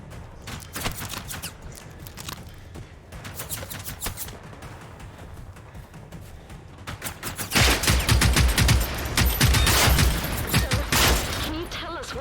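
Shotgun blasts and rapid gunfire ring out in Generation Zero, sparse sharp shots early, then a loud dense barrage of crackling bursts, with a voice talking underneath.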